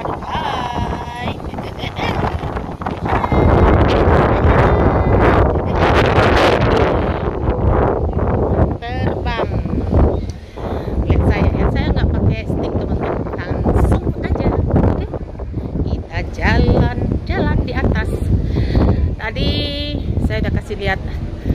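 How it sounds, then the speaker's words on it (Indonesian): Strong wind buffeting a microphone on a cruise ship deck, loud continuous rumbling gusts with people talking over it throughout. "goyang-goyang karena angin kencang"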